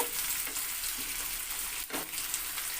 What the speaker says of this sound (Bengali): পেঁয়াজটা আমার একটু হালকা লাল করে ভেজে নেব